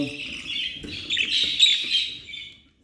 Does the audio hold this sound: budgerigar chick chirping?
yes